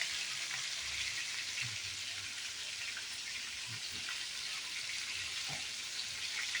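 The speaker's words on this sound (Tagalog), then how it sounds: "Igisa ko na." Chicken frying in a pan for a Filipino mechado dish, a steady soft sizzle with faint crackles and a few clinks of a utensil against the pan.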